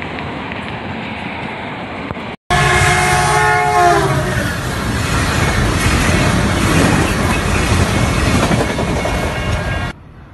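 A train rumbles past at close range in the San Francisco Bay Area, loud and steady, with squealing wheel tones early on and a continuous rolling roar until it cuts off.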